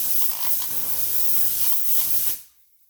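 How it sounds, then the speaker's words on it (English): Optimum No Rinse is sprayed onto a truck door in a loud, close, steady hiss lasting about two seconds before cutting off abruptly into near silence. "I'm going to spray the door off."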